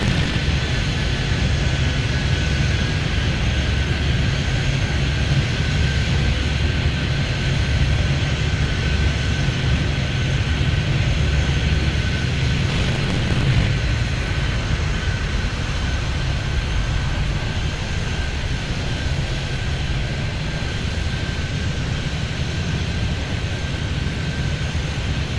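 Steady, loud drone of aircraft engines and jet noise in the airport video game Airport Madness, a continuous broadband roar with no breaks.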